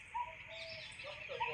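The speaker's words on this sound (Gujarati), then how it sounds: "પક્ષીઓનો કલબલાટ." Faint bird chirps and cooing calls drift through the quiet at the Merdi Ma temple in Ranekpara village, soft and somewhat distant, a few brief calls over low background hush.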